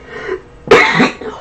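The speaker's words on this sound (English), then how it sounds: "I'm having a bit of a coughing fit." A person coughs in a brief fit, one soft throat sound followed by a harsh, loud burst up close.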